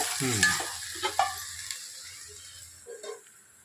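Mutton curry ingredients being stirred and fried in oil, with a few scraping stirs early on and then a quieter, fading sizzle toward the end, heard close up with no talking.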